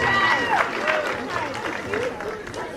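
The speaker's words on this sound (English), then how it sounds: "This young lady right here, give her a big round of applause" Crowd at a burlesque show applauds and cheers as a young woman from the audience is called up to the stage, a dense wash of clapping mixed with whoops and lively babble throughout.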